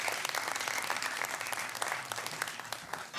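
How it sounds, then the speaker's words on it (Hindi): A crowd at a comic poetry gathering (mushaira) applauds steadily, dense clapping filling the room at a moderate distance, sustained without pause. "जोरदार तालियां जनाब"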